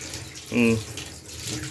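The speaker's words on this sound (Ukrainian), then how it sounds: "Ось все, пішла гаряча вода." Hot water runs steadily from a household tap, heated by a home boiler, making a close, continuous rushing splash. A brief tonal hum rises above it midway.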